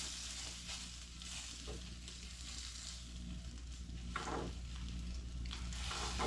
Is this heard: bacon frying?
yes